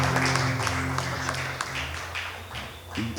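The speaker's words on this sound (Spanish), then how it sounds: "Dale un fuerte aplauso al Señor en esta mañana." Church congregation clapping during a Friday worship service, a fairly quiet crowd of hands applauding steadily and then thinning toward the end, with a voice briefly heard at the close.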